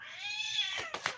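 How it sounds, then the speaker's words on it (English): A pet cat lets out one long, drawn-out meow that rises and then falls. A few brief rustling noises follow right after. "I'm sorry about my cat, you guys."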